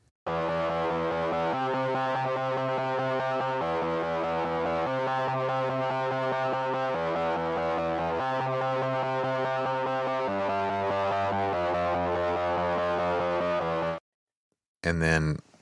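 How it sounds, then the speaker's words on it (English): Electric guitar playing a verse part panned to the left, sustained chordal tones with steady rhythmic changes for about fourteen seconds, then a sudden cut and a brief burst at the end. "that's actually two guitar parts, one in the left speaker, one in the right"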